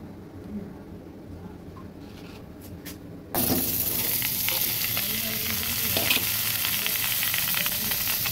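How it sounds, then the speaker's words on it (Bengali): Pumpkin pieces dropped into a pan with a spoonful or two of water: a faint kitchen hush breaks into a sudden loud sizzle that stays steady and close, with light stirring. "কুমড়োগুলো সেদ্ধ বসিয়ে দিচ্ছি।"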